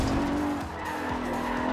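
A Subaru skids in the racing video game Forza Horizon 2, its tires squealing in a steady smear over continuous engine noise for under two seconds.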